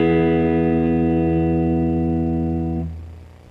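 A single sustained guitar chord in an E shape rings out clearly and evenly, then is damped and decays in the final moment.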